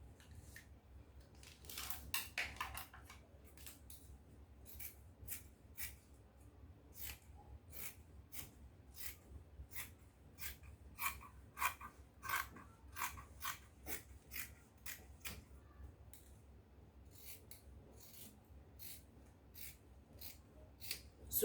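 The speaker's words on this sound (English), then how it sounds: "So when I'm done, I'll go ahead and cut it out." Scissors cut out a peplum piece from ankara fabric in a quiet run of quick, crisp snips, closely spaced and close to the microphone.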